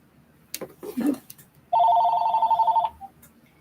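A telephone rings once in a sustained electronic warbling burst, loud and near, right after a few soft sounds of a person nearby.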